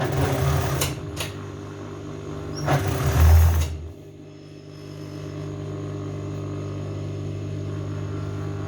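A sewing machine stitches a ruffled (flounced) skirt, its steady motor hum running close and even throughout, with a few brief louder bursts early on, and no voice.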